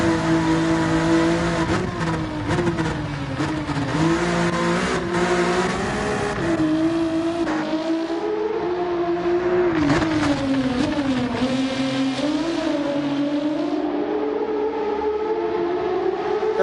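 An Alfa Romeo race car in Gran Turismo 7 screams continuously at high revs, its loud, raspy engine tone rising and falling through gear changes with no pauses or voices.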